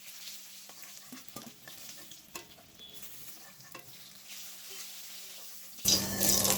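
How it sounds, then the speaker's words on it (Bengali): The remaining snakehead (shol) fish pieces fry lightly in a pan, giving a soft, steady sizzle with scattered clicks and scrapes, then a sudden louder burst of frying at the end. "বাকি যে মাছের পিসগুলো রয়েছে এভাবে হালকা লাল করে ভেজে নেব।"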